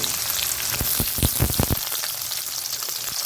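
Sliced onions cut into long strips hiss and crackle in hot oil for a green peas kurma, a steady close sizzle with a burst of sharper pops in the middle, no voices over it.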